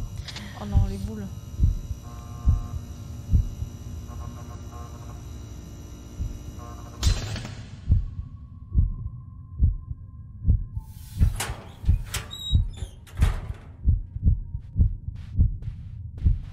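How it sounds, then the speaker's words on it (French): Heartbeat sound effect in the Backrooms video game: a regular, deep double thump that repeats steadily and loudly under a hum and later scattered noises, with a player talking over parts of it. "Battement de cœur."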